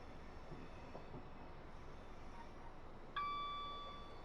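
A passenger train in a train simulator on the Portsmouth Direct Line near Portsmouth Harbour rumbles softly and steadily. A sudden ringing tone cuts in near the end and slowly decays.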